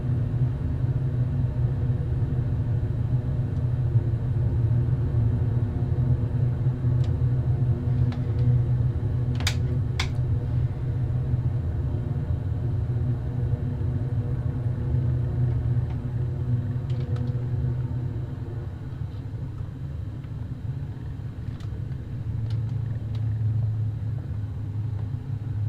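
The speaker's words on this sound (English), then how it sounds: "Bit of reverse thrust to slow the plane down" An airplane's reverse thrust after touchdown makes a steady, heavy low roar that runs on and eases somewhat near the end as the aircraft slows on the runway.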